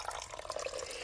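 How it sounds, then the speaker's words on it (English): Thirty-two ounces of less-sodium beef broth pours into a pot that already holds crushed tomatoes, a steady, continuous liquid rush with no talking. "I'm going to do 32 ounces of less sodium of my beef broth in here."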